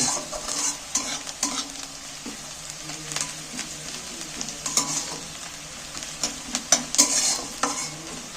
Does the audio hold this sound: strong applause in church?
no